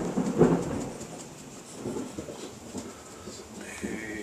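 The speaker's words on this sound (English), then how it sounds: "It's coming down pretty hard out there." A summer thunderstorm with heavy rain outside a house: low thunder rumbles near the start, then softens into a steady, faint wash of rain and distant rolling.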